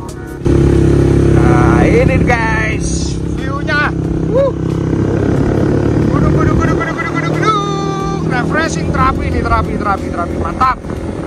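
A Kaisar Ruby V-250 motorcycle engine drones continuously up close on a ride from Surabaya to Batu, Indonesia, while people talk over it, the engine noise rising and falling slightly.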